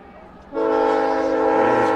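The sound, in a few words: train passing with horn near stadium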